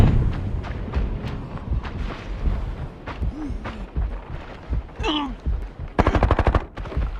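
Gunfire in the video game Arena Breakout: repeated close shots and bursts through the clip, ending in a rapid automatic volley, with other game effects mixed in.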